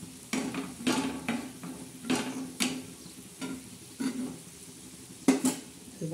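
Bitter gourd rounds fry on a tawa while a spatula stirs and scrapes them, giving repeated metallic clinks over a steady sizzle.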